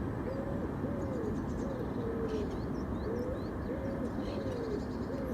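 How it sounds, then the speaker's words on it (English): A pigeon or dove in a nearby tree repeats soft, low cooing phrases over a steady outdoor wash of noise, with faint chirps from other birds higher up. "There's some pigeon or dove cooing in a tree close by."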